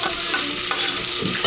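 Onions sizzle in melted butter in a pan on medium heat, a loud, close, continuous frying hiss with a few stirring scrapes and clicks, no voices.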